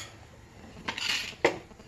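A cooking pot set down on a stove before making basmati rice pulao, heard as two brief metallic clanks, the second sharper and more ringing, over a quiet background with no voices.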